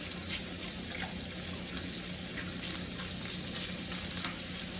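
Short ribs sizzle and fry steadily in a hot pan as they are stirred and caramelize, a continuous crackling hiss with faint scraping and no talking.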